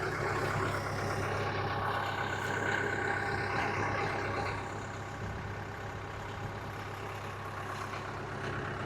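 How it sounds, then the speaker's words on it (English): Tractor engine idling close by, a loud, even mechanical rumble and clatter that steps down slightly midway and then carries on steadily. "let me kill this tractor so you guys can hear me."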